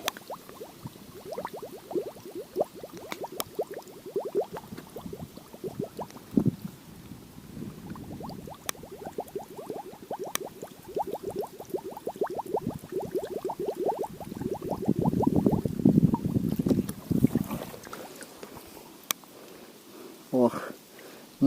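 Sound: collecting water from the Pripyat river

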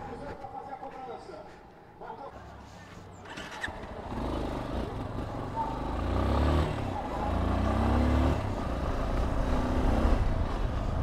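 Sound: delivery motorcycle engine

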